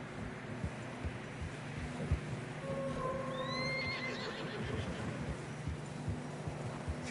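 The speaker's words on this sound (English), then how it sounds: "Horses are struggling." Horses in Red Dead Redemption 2 whinny loudly over a constant bed of hoof clatter and rough outdoor noise while struggling through fresh snow on a narrow path, the neighs rising and falling in the middle of the stretch.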